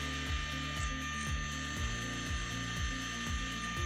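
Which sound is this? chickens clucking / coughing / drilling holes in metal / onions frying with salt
drilling holes in metal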